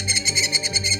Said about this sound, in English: Head nurse Sarah meets a bird behaving badly